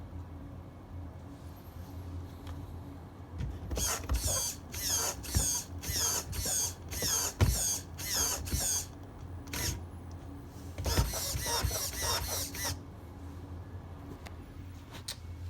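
A 20kg servo strains as it dry-steers under heavy load, wheels gripping and not turning: a run of short whirring bursts in quick succession, then a second longer burst, close and moderately loud over a low background hum.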